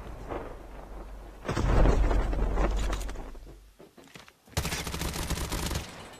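Gunfire in a battle royale video game comes in two loud bursts of rapid, continuous shots separated by a brief quieter lull, with no speech over it.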